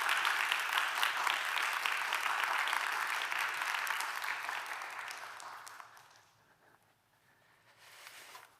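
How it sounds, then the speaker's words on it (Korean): A church congregation at a Sunday worship service gives an elder a warm round of applause as he comes up to speak. Steady, full clapping lasts about six seconds before dying away into near quiet. "박수로 뜨겁게 우리 맞이하시면 감사하겠습니다."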